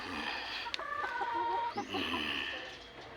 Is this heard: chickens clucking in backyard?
yes